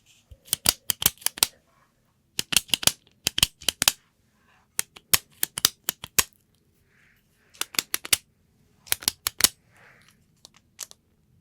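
Small pen button clicked in quick clusters of three to five sharp, crisp clicks separated by short pauses, recorded very close and dry in near silence.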